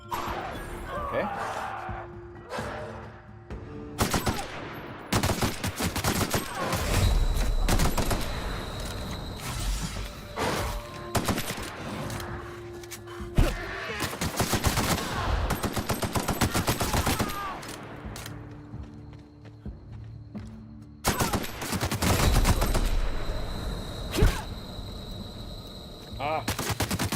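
Heavy video game gunfire, rapid machine-gun bursts and crashing impacts, fills the stretch loudly in repeated dense volleys with brief gaps between them, and a voice speaks at times underneath.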